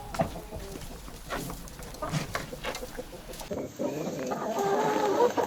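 Kuban hens outdoors on frozen ground in winter, clucking and murmuring in a loose, irregular series at close range, with scattered calls and rustling and a louder stretch of cackling toward the end.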